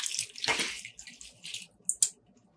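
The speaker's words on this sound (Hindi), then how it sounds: "ये देखिए पानी बॉईल हो गया है। अब इसके अंदर डालेंगे" Soaked basmati rice poured into a pot of boiling water for mutton biryani, a short watery splashing pour followed by a few lighter splashes and drips, close by.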